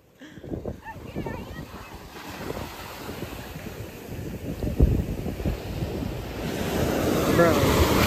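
Ocean surf rolls and crashes on a beach in steady, loud waves, with heavy wind buffeting the microphone throughout and a voice briefly heard near the start.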